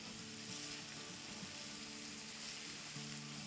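Whole cumin seeds fry with onion and chillies in hot oil for a potato sabzi, giving a steady, close sizzle with a constant bright crackle and no pauses.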